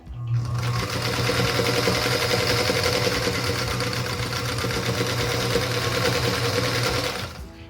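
A sewing machine piecing a quilt block with a scant quarter-inch seam, a steady rapid mechanical whir running close and continuous for about seven seconds before it stops.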